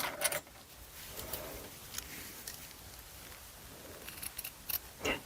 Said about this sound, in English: So first of all I cut out these pieces